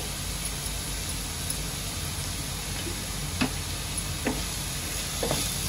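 Green chilies and asafoetida frying in oil make a soft, steady sizzle, with a few faint stirring clicks and taps and no talk.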